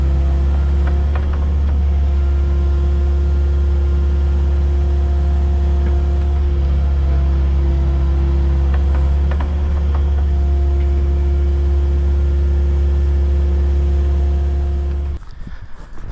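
A truck's engine idles in a steady, loud low rumble while the vehicle is positioned at an oil tank removal site, continuous and unchanging until it cuts off near the end.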